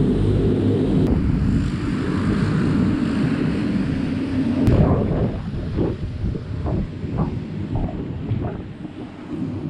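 A propeller airplane at a small domestic island airport in the Maldives drones with a loud, steady engine roar mixed with buffeting wind on the microphone, easing off partway through into rumbling bursts.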